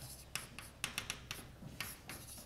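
Chalk or marker writing on a board during a mathematics lecture, heard as a quiet series of short scratchy taps and strokes, close and fairly faint.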